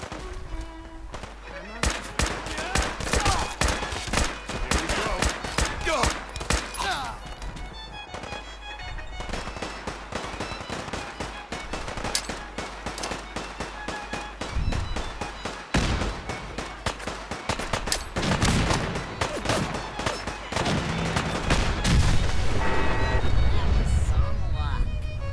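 Gunfire in a Fallout video game, rapid bursts of shots and blasts crackling over busy game music and effects, continuous and fairly loud, growing denser toward the end.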